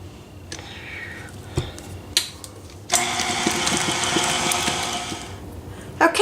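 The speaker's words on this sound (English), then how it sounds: "I'm going to let this mix until those bananas and eggs and milk are well and combined." A stand mixer fitted with a beater paddle churns banana bread batter of mashed bananas, eggs and milk. A few clicks and knocks come first, then a steady, fairly loud motor whir runs for a couple of seconds and drops away.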